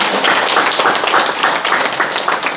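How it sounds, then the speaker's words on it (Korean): An audience at a Sunday lecture applauds loudly, a dense steady wash of clapping from many hands that continues through the whole moment without any talk. "박수 한번 치야 되지 않습니까?"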